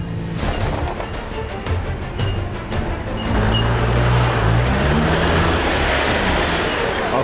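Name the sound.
4WD vehicle engine driving up and over an obstacle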